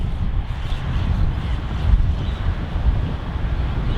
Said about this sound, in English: this wind, this southerly wind coming from the Arctics